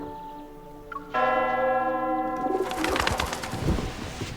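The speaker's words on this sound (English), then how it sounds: "The bell startles the doves, and they fly into the air." Church bell in a video game, struck once with long ringing overtones, then a flurry of wing flaps as startled doves burst into the air while the bell tone decays.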